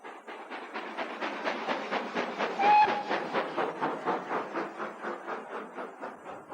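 Two locomotives run on a main railway line with a steady rhythmic beat of puffs and wheel clatter, and a brief whistle sounds partway through.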